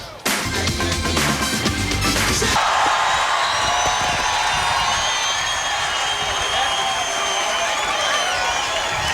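A huge stadium crowd at the 1997 Chicago Bulls championship celebration roars and whoops continuously, loud and sustained, with a burst of music or announcement at the start before the cheering takes over.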